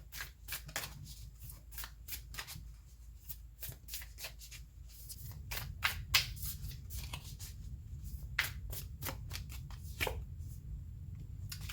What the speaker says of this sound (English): let's go ahead and pull an oracle card for you from the Moonology deck